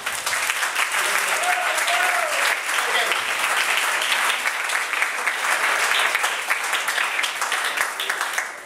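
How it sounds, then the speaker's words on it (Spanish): A church congregation applauding during a sermon, sustained dense clapping with a voice speaking over it near the start. "Dale un aplauso a tu hermano, dale un aplauso."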